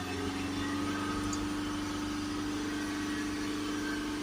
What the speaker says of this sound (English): Just going to hold the revs up to 3000 RPM.